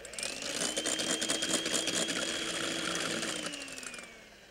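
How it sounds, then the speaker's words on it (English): A small electric hand mixer whirs steadily as it beats egg whites in a little bowl for a cheese soufflé, its motor tone holding level throughout before easing off at the end; no one speaks. "I'll review how we have done them, which is the little hand mixer in the little bowl"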